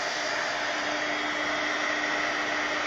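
Handheld dryer blowing on mixed media paint, a steady close whooshing drone with a faint tonal hum, loud and unbroken throughout with no talking.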